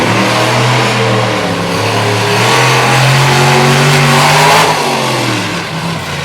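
Bigfoot monster truck revving hard at a race takeoff, a loud sustained engine roar rising and falling in pitch across the run, close and continuous with no talk.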